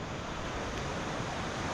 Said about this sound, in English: you can feel that the water's getting faster and faster from this point on until it goes over the top of the waterfall at the gate there